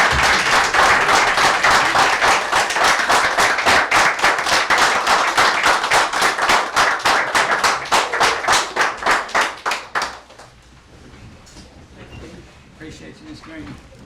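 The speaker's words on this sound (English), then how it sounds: "could you please stand so we can give you a round of applause" An audience at a school board meeting applauds Connie Green with steady, loud clapping from many hands for about ten seconds, then the applause fades out, leaving quiet room noise.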